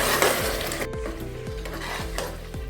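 A spoon stirs spiced potato kurma in a pan, with repeated scraping strokes roughly every half second over a steady sizzle of frying spices.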